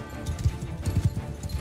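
Horse hooves clop in a fast, irregular galloping rhythm in the video game Mount & Blade 2: Bannerlord, fairly close and moderately loud, with faint game ambience underneath.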